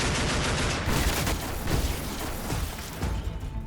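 Rapid, dense bursts of heavy automatic fire from a Rheinmetall MK 108 30mm aircraft cannon on a World War 2 German jet fighter, loud and continuous with a harsh, hammering rattle throughout.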